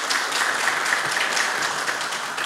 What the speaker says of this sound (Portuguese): pedir uma salva de palmas para toda a equipe da Secretaria de Cultura